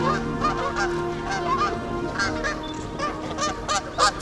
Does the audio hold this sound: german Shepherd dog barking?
no